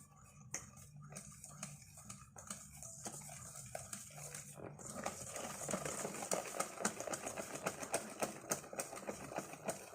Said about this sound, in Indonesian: pengocok telur. Kita kocok ini sampai kembang ya bun.